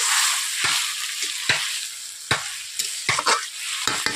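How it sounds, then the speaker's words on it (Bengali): Okra frying in a kadai after a splash of water, stirred with a spatula: a continuous sizzle broken by sharp scraping strokes at an irregular pace, close and fairly loud. "জল দেওয়ার পর এইভাবে নেড়ে নিয়েছি 1 থেকে 2 মিনিট।"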